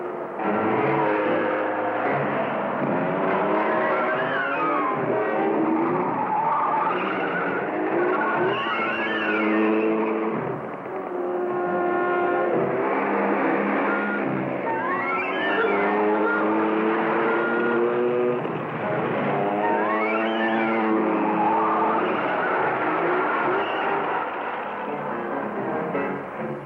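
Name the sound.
car driving fast with skidding tires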